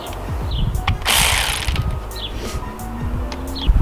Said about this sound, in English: Do I need to use this ratchet for this?